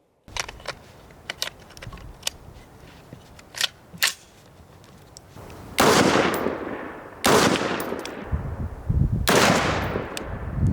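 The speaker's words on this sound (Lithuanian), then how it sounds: "Pabandėm iššauti 3 šūvius," A Daniel Defense DDM4V7 AR-15 rifle fires three loud, sharp shots in quick succession outdoors, each with a ringing tail, following a run of light mechanical clicks and handling noises.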